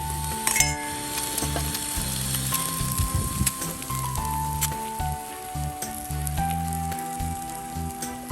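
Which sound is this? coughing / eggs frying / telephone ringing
eggs frying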